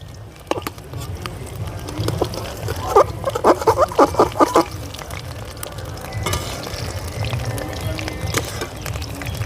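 Bakful flower fritters fry in hot oil with a continuous close sizzle, punctuated by a quick run of sharp spatula taps and scrapes against the pan.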